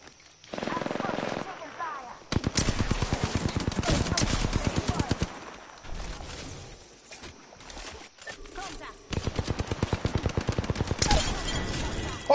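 Bursts of Peacekeeper shotgun fire in Apex Legends, several loud, rapid runs of shots separated by quieter gaps, with a voice speaking at moments.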